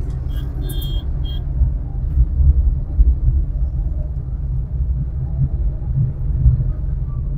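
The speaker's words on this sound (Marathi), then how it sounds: "आणि ट्रॅफिक भरपूर आहे" Heavy road traffic at a busy junction, including state transport buses, produces a continuous deep engine rumble with passing vehicles swelling and fading nearby and a brief high hiss near the start.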